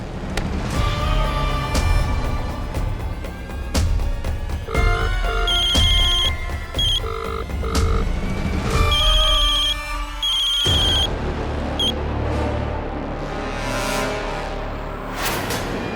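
A telephone ringing in a Hindi TV drama, its electronic ring tone sounding in repeated bursts amid dramatic background sound, fairly loud and with no talking over it.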